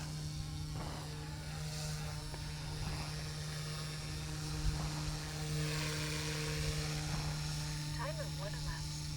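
An OMP M2 EVO MK2 RC helicopter in flight, its steady high-pitched rotor and motor whine holding constant throughout with a faint hum underneath, with no talking.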